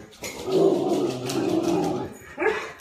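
A pet dog lets out a sustained, whining bark-like vocalisation close by, followed after a short pause by one more brief yelp.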